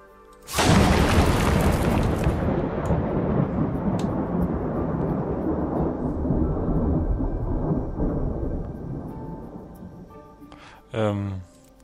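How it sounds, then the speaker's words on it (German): Lightning strikes called down with creator power in the god game The Universim: a sudden loud thunderous crash erupts and rumbles on for about ten seconds before fading, followed by a brief short burst near the end. "Dann probieren wir mal, ob wir Blitze hier reinschicken können."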